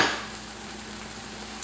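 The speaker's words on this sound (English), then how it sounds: "we're going to heat this paste up for about a minute or so on medium high to high" Rendang paste heating in a pan on medium-high heat, giving a steady, fairly soft sizzle that opens slightly louder and then holds constant.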